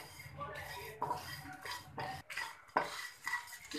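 Whole spices dry-roasting in a pan over medium flame, stirred with a metal spoon that scrapes and clinks against the pan in short, irregular strokes, close and fairly quiet.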